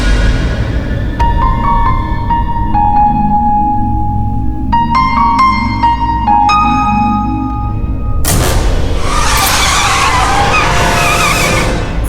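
A car driven fast skids with long, loud tire squeals that waver and overlap, then a burst of harsh broadband scraping noise near the end, close and intense with no talking.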